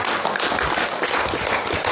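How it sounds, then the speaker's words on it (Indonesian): A large gathering of congregants at a religious talk claps together in a thick, continuous burst of applause, loud and close with no pauses. "tepuk tangan"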